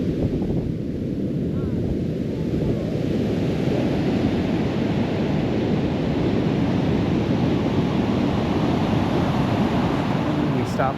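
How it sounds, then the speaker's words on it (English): Big ocean waves roll in and break at Harris Beach State Park on the Oregon coast near Brookings, a loud, continuous roaring surf with heavy wind buffeting the microphone throughout. "Definitely some big waves coming in today."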